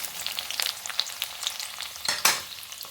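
Chopped onions frying in a pan, a continuous crackling sizzle with scattered sharp pops and a louder scrape or clatter near the end, close and without speech.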